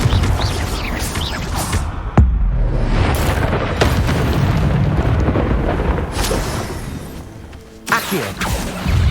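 Confringo blast spell in Hogwarts Legacy combat, heavy booming explosions: a sharp loud impact followed by rumbling fire and debris, then another burst near the end, close and dense.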